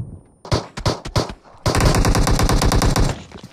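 Gunfire in PUBG Mobile: several sharp single shots, then a long rapid automatic burst lasting about a second and a half, loud and close, with no talking.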